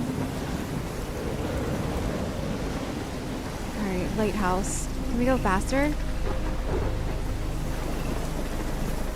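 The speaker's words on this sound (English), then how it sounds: "Wow, this is a wild storm." A wild storm in the video game Life is Strange, with steady heavy rain and rumbling noise filling the scene while a person speaks over it.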